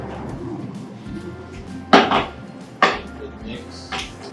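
Udon carbonara with cream being mixed in a pan, a low continuous bubbling and stirring broken by two sharp clanks of a utensil against the pan, with faint talk in the background.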